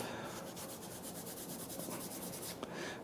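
Sandpaper rubs back and forth on a wooden tool handle for a bowl gouge, a close, steady rasping with a quick repeated rhythm as the grit scrubs the wood.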